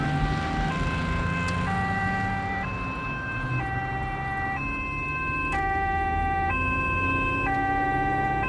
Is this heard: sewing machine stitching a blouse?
no